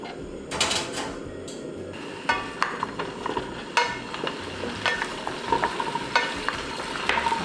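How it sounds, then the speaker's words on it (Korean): Small potatoes stir-fried in a couple of spoons of oil, a close sizzle broken by frequent rattling, tumbling stir strokes and clicks. "감자를 이렇게 볶아줍니다."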